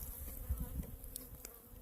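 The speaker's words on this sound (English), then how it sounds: "Oh, look at all these bees" Low, faint buzzing of honey bees close by, a soft droning hum with a few brief louder passes.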